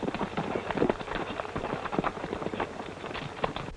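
Irregular hoof clops on a hard surface, moderately close, with faint voices and background noise mixed in.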